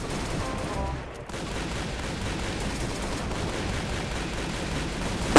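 Gunfire in the Minecraft Warz (Minez Copterz) multiplayer game, a dense continuous fusillade of shots running steadily throughout with a louder burst at the very end.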